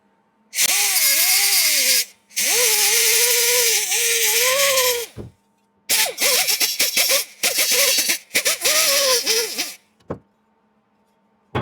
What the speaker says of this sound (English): I'm going to run this die grinder in these holes like up there, and I'm going to just take and clean off this area just a hair